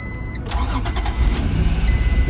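A 1991 Honda NSX cranks and catches, its engine starting after a brief quiet moment and settling into a steady, close idle rumble with faint high tones overhead.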